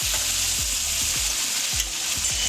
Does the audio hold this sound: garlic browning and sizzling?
yes